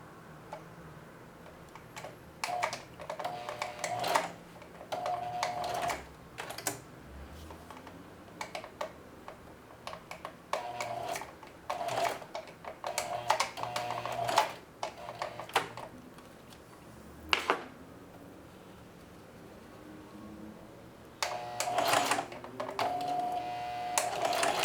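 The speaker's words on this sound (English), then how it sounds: "I'm on straight stitch still, and I'll get it tacked down with a forward and a backward" A sewing machine running a straight stitch to tack down apron straps, going forward then in reverse: bursts of rapid mechanical ticking in short runs separated by pauses, close and fairly quiet, with no talk.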